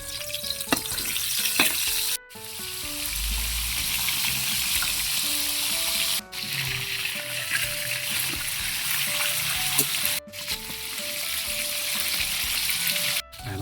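Tilapia fries in hot cooking oil with a steady, loud sizzle that carries through the whole stretch, broken by a few brief sharp pauses and faint clinks and trickling under the crackle.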